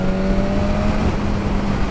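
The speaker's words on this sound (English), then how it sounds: "Let's try a 5th gear overtake at 60 miles an hour. Let's see how it pulls" A 2019 BMW S1000RR sport motorcycle accelerates at full power in fifth gear at around 57 to 60 mph while overtaking a car, giving a loud, steady engine drone with constant wind rush.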